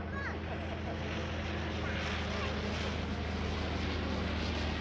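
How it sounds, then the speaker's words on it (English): A Fokker D.VII World War I biplane passes underneath at an airshow at Sywell, its engine a steady, loud broadband drone that holds throughout with no pause. "As the D.VII passes underneath, flown by Stu Goldsby."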